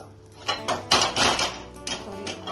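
A metal kadai or tawa is clanked and shifted on a home kitchen stove, several sharp close metallic knocks and scrapes in an uneven rhythm.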